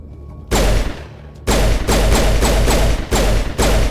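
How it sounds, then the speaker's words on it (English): Pistol shots from Mass Effect Legendary Edition ring out as loud, sharp bangs, one early then a rapid string of four or five in quick succession, close and dominant. "I'm just sniping people with my pistol"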